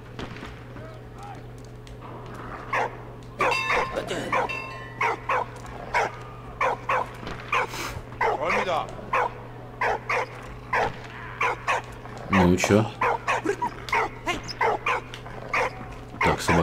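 A dog barks, yips and whimpers in the WWI video game Valiant Hearts, sharp barks repeating in quick irregular bursts with a louder cluster near the end, over a steady low hum and brief speech.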